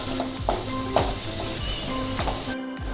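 Tomato masala for a South Indian prawn curry sizzles and fries in oil, with a spoon or spatula scraping and stirring through the pan every half second or so, close and steady; no voices.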